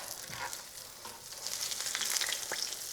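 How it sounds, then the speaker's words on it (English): Breaded chicken schnitzel fries gently in a pan, giving a steady close sizzle and crackle of hot oil, with brighter spitting bursts that swell toward the end, with no talking. "you just want to gently fry that until it goes like a nice golden brown"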